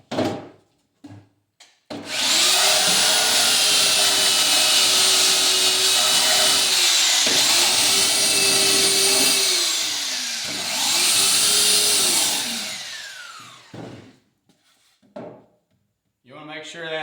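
A belt sander grinds a wooden beehive box, its belt clogged with propolis, in three long loud passes with a steady whining motor tone dipping at each stroke, with brief clatter and short silences at the start and end.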